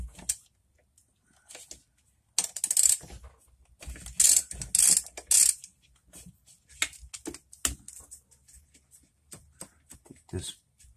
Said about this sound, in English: take this nut off here, and there's one behind it also